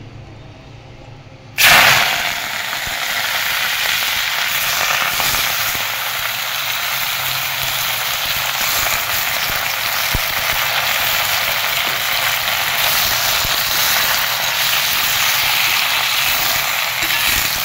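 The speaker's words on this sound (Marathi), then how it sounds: "आता आंबाड्याची भाजी तळून घ्यायची" Ambadi (roselle) leaves dropped into hot oil, setting off a sudden loud burst of sizzling that settles into a steady, close, continuous frying hiss with no voices.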